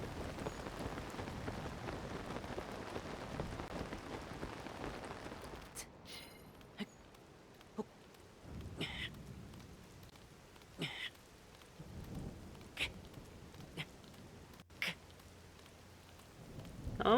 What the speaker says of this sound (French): Que la pluie se finisse, ce sera sûrement plus agréable quand même.